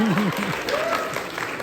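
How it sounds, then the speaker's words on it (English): Brief audience applause from a comedy troupe show crowd, a dense clapping wash under a voice speaking over it. "Clap, clap, clap, clap."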